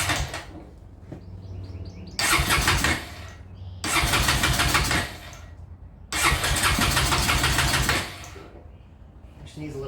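A 2001 Honda Rancher ATV, an abandoned project machine, cranks in three loud, close bursts of starter churning, each lasting a second or two, with quiet pauses between them.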